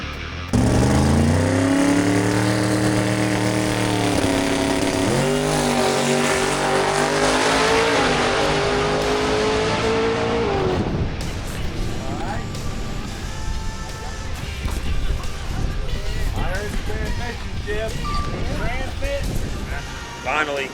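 A race car with a three-speed gearbox accelerates with a loud, close engine rising in pitch through the gears, then breaks into rough, crackling noise as the pull ends, with talking and music mixed in.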